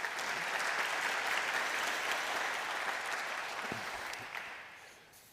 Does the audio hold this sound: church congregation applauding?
yes